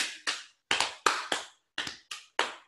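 Lap claps keep the beat in a song: roughly nine sharp, close hand slaps in a lively, slightly irregular pattern, with brief pauses between them.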